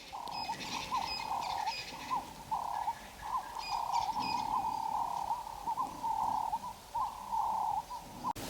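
A southern ground hornbill gives a low booming call in Kruger National Park near Lower Sabie, repeated in a steady series of deep pulses over the whole stretch, with birds chirping faintly in the background.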